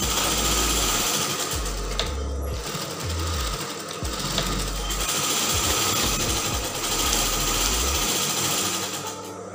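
A sewing machine stitches the folded edge of a half-circle skirt hem in loud, close bursts of rapid mechanical chatter, starting and stopping several times.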